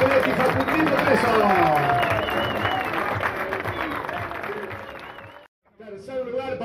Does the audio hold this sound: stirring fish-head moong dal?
no